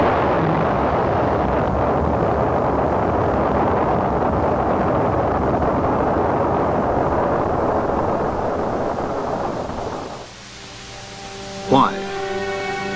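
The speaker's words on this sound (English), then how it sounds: "This launch carried an Earth satellite into orbit." A rocket launch carrying an Earth satellite into orbit, heard as a loud, sustained broadband roar lasting about ten seconds, then dropping away under faint tonal sounds and a brief bump.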